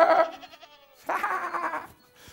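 A voice imitates a sheep with two drawn-out nasal bleats, "baa", each about a second long, the second after a short pause. The calls are close and fairly loud, with no other sound around them.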